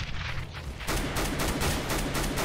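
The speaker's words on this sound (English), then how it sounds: "Exist now with the auto scope in the middle," An auto-scope sniper rifle fires in Counter-Strike on de_inferno, a loud burst followed by rapid repeated shots in quick succession, close and sharp over game ambience.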